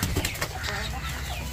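A pigeon's wings flap quickly in a brief flurry of soft, rapid beats close by.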